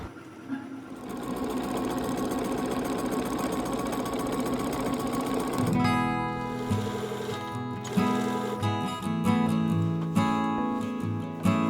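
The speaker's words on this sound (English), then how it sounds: "now I'm going to start working on machine quilting the quilt sandwich" A sewing machine stitches through a quilt sandwich of fabric layers with old bed sheets or saris as batting, running in a steady fast mechanical whir that shifts to a slower, choppier rhythm partway through.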